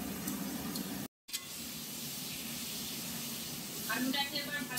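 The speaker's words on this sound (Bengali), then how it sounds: "আলুটাকে এবার ভালো করে ভেজে নিতে হবে" Potatoes fry in oil for a Bengali Katla fish curry, a steady soft sizzle and hiss running throughout, briefly cut off by a short silent gap, then resuming with a slightly livelier crackle near the end.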